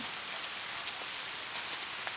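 Steady rain falls continuously, a dense hiss of drops with faint patters, no voices present, in a Hindi cartoon.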